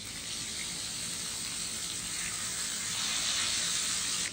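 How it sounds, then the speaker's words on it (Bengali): Dried red chilies sizzle in hot oil in a home kitchen pan, a steady, close, bright frying hiss that holds evenly and swells slightly louder near the end, with no voices over it. "শুকনো মরিচ দিলাম ওই তেলে"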